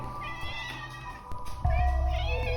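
A cat meows several times in high, wavering cries, followed by a louder, lower drawn-out yowl near the end over a faint background hum.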